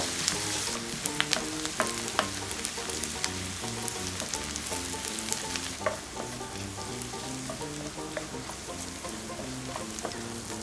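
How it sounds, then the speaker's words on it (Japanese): Carrots and onions sautéing in a pan for a vegetable-rich hayashi rice, a continuous close crackle and sizzle with small popping spatters and occasional stirring clicks throughout. "今人参と玉ねぎを炒めてだいたい10分以上経ちました。"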